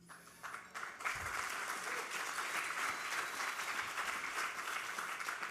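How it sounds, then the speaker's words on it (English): Audience applause at the New York City Imagine Awards rises after a quiet moment into a sustained, even wash of many hands clapping, heard from a moderate distance in a large hall. "And we thank you for your applause,"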